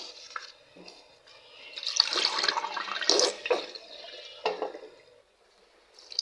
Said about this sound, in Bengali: গাছটাকে আগে ধুয়ে দিই